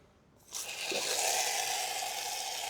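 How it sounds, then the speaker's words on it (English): Water rushes steadily through a filtration canister system being regenerated, beginning with a soft hiss and swelling after half a second into a loud, continuous gushing flow that holds even to the end, with no voices. "Whilst the water is now flushing through the system"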